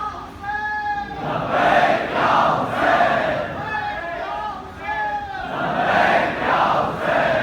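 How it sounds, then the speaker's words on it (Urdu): A large crowd at a Shia majlis gathering recites salawat together in unison, voices swelling and falling in loud, echoing waves. "صلوات پڑھنے محمد و آل محمد"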